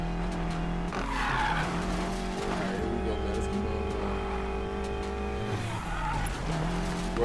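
A BMW X6M in Need for Speed Payback powers over dirt, its engine droning steadily while the tires skid and scrabble, with gear changes and surges in pitch throughout.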